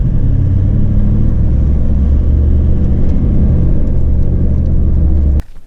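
Vehicle engine running steadily in first gear, high range, at an easy pace, with a loud continuous low rumble that cuts off abruptly near the end.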